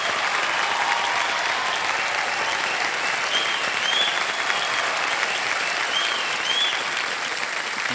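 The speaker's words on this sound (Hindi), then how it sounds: "हम लोग खड़े होकर के ताली बजा रहे हैं आपके लिए" Studio audience on a TV quiz show rising to give a standing ovation, thick continuous applause from many hands at an even, loud level for the whole stretch.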